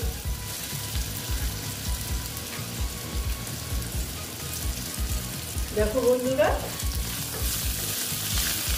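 Potatoes fry and get stirred in a pan for a kolmi shak dish, giving a continuous close sizzle with scraping stir sounds, while a voice briefly speaks over it.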